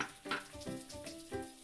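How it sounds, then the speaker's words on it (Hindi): Pieces of arbi (taro root) sizzling as they fry in oil in a pan, with a steady crackle and light clinks of stirring against the pan, close up and without speech. "जब तक ये अरबी हमारा फ्राई होते हैं"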